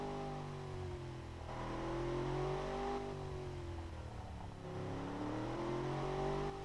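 A car engine with a straight-through exhaust in the driving game Automation revs up and down repeatedly, its rising and falling tone swelling to high revs in a few waves with no talk over it.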